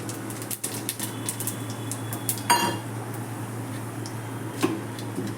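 A spoon scrapes and clinks against a pot while a bay leaf, dried chili and cumin tempering is stirred in hot oil for khichuri, with soft sporadic taps, one sharper knock midway and a low steady hum underneath.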